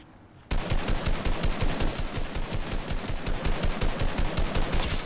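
Rapid automatic gunfire in a video game erupts after a brief quiet moment, a loud, steady stream of shots continuing without pause.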